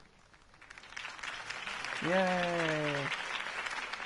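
Crowd applause follows a campaign speech in the video game Batman: The Telltale Series, a steady clapping wash that swells and holds while a voice cheers briefly over it.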